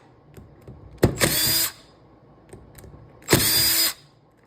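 A power tool drills out screws from a carbon fiber mold in two loud, close whirring bursts, each lasting about half a second. Quiet clicks and handling noises fill the gaps between them.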